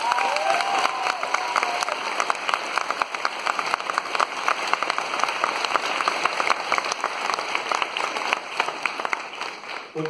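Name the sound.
audience applause at convention Q&A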